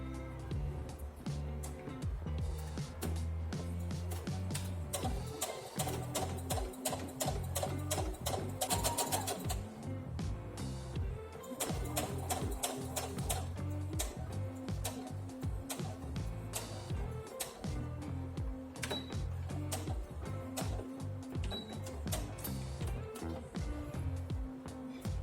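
A sewing machine stitches steadily around the hem of a top, close and continuous, its rapid mechanical ticking running the whole time with brief pauses and no talk.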